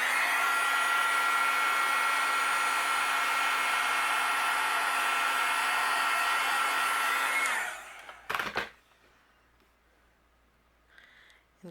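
A heat tool blows a loud, steady whirring hiss while melting clear embossing powder on a card, then switches off, leaving a few soft clicks and handling noises in near quiet.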